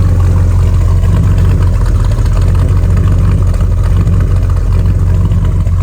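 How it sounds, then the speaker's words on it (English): A 1967 Ford Galaxie 500 convertible rumbles loudly from its tailpipes, a deep continuous throaty exhaust drone with subtle revving swells, recorded close behind the car with no talk. "Check out that sound coming out of the tailpipes while we're back here."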